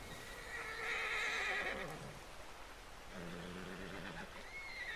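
A horse in Red Dead Redemption II whinnies loudly in a long, wavering neigh, followed by a second lower snort-like neigh against a soft background rush.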